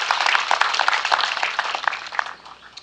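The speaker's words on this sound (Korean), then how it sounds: "결산 보고에 박수로 동의해 주시기 바랍니다." Dense, steady clapping from the audience at a formal annual general meeting held at a traditional Korean village venue. The applause is moderately loud and fills the whole moment, then thins toward the end.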